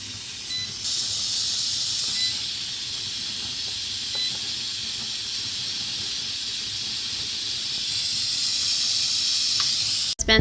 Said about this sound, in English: So our canner has just reheated the jars, and now it says venting.